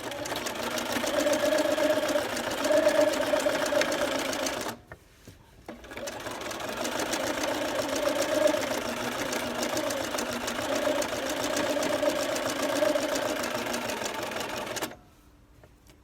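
A regular sewing machine satin-stitches cord onto a lace scallop edge, running in a fast, steady mechanical whir for several seconds, stopping briefly, then running again for a longer stretch before halting.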